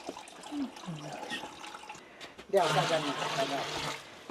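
Liquid, likely milk, is poured from one vessel into another through a strainer during cheesemaking, a broad rushing splash starting midway and running steadily to the end, with faint voice sounds before it.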